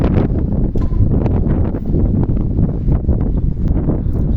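Strong wind roars and buffets the microphone continuously, a loud rushing blast with no pauses.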